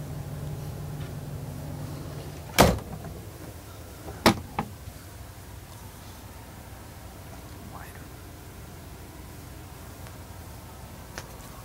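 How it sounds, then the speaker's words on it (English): The door of a 2004 Airstream Land Yacht 26Y motorhome is shut, giving a sharp close thump followed by a second latch knock, then a quiet interior with faint rustling. "I'm gonna shut the door behind you."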